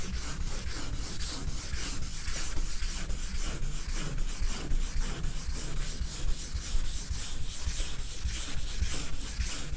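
Wet sanding of car paint by hand to flatten orange peel, a steady rhythmic back-and-forth rubbing scrape repeating evenly throughout, close and continuous with no talk.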